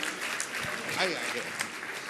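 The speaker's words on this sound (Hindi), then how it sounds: "तालियां इनके लिए भी" Applause from a seated crowd at a Jain religious gathering honoring a donor, a dense moderate clatter of clapping held for about two seconds with a voice faintly mixed in.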